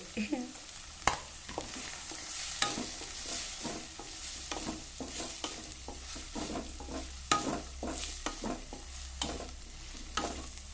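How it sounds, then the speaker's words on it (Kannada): Onions fry softly in a pan for a veg sandwich filling, a low steady sizzle broken by frequent scraping taps of a spoon stirring them. "ಈರುಳ್ಳಿ ಸ್ವಲ್ಪ ಫ್ರೈ ಆಗ್ಯಾವ"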